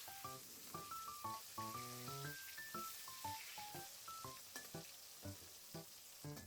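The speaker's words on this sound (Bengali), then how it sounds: "মাছ এপিট ওপিট করে ভেজে নেব" Hilsa fish sizzling in hot oil as it fries on both sides, a close, busy crackle with frequent sharp pops and spits from start to end, no talking.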